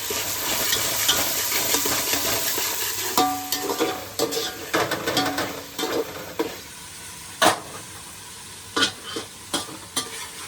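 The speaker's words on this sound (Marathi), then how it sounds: "तर इथे टॅमॅटो आणि कांद्याची फोडणी दिलेली आहे." Tomato and onion tempering sizzles steadily in a pan, a dense frying hiss that thins out halfway through, followed by scattered sharp clinks of a utensil stirring against the metal.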